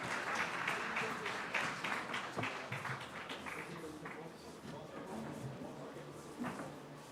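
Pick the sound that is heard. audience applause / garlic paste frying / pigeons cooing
audience applause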